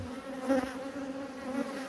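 Honey bees droning steadily around a hive colony, a continuous low buzz with a few louder swells as individual bees pass close, no voices.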